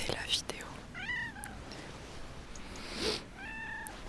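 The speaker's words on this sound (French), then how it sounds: "le son d'un chat, d'un ronron et de quelques miaulements" A cat gives several short rising meows close by, with soft breathy whispering in between, in a quiet ASMR setting.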